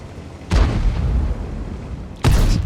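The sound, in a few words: tank cannon fire, World of Tanks video game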